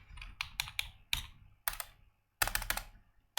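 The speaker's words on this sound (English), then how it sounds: "Oh my god, typing is hard." Typing on a computer keyboard in short bursts of rapid key clicks separated by brief pauses, close and crisp with no talking.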